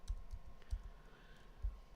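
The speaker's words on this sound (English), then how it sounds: "Stop typing." Keyboard typing during a horror-video reaction: scattered, fairly quiet key clicks and soft thumps in an uneven rhythm, with no voices.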